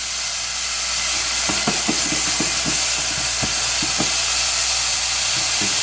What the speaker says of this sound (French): bien l'ail et l'échalote. Je réduis un peu le feu. Voilà, je fais bien suer, sans coloration.